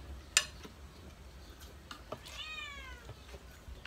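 A cat meows near a kitchen where mung bean stew is being cooked, one drawn-out meow mid-clip among faint clinks of utensils and low background noise, fairly quiet overall.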